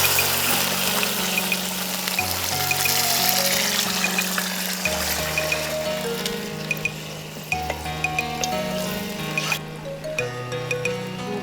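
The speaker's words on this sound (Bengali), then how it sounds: "ওই পানিটা এখন দিয়ে দেব।" Measured water, mixed with a little milk powder and sugar, is poured into a pot for cooking traditional Chittagong-style rice, a continuous splashing fill heard beneath background music.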